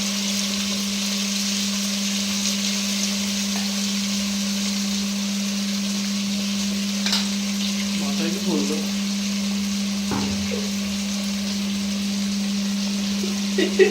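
Onion, ginger, garlic and green chili paste sizzle with a steady, even hiss in a pan, joined by a few soft stirring scrapes, close and continuous over a low constant hum.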